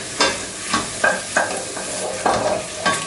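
Mushrooms fry in butter in a pan with a steady sizzle, broken by several evenly spaced scraping stirs, close and fairly loud.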